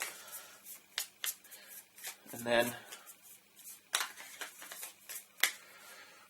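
Board game tiles are shuffled on a tabletop, giving scattered clicks and clacks of hard pieces knocking together, with a brief soft thud partway through and a person speaking briefly over it.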